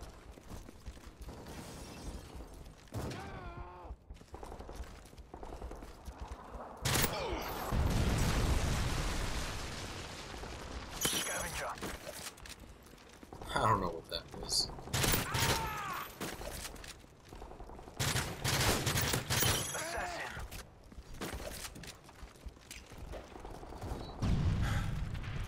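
Bursts of video game gunfire crackle through a match, loud clustered volleys and pops recurring across the stretch, with some game effects mixed in and no speech.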